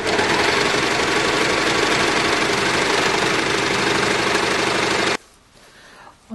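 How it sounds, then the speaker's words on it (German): An overlocker sewing a seam on fabric for a kitchen cover, a fast, steady mechanical whirring hum close by that runs for about five seconds, then stops abruptly into near silence. "oder man macht es gleich mit dem Overlocker"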